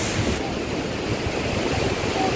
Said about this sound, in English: So beautiful place. Waterfall is so good.